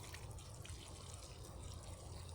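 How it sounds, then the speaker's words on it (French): A little water is poured onto freshly sown carrot and radish seeds in garden soil, a soft steady trickle and patter for a couple of seconds, faint and near. "Je vais y apporter tout simplement un petit peu d'eau."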